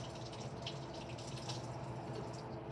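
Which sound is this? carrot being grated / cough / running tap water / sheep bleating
running tap water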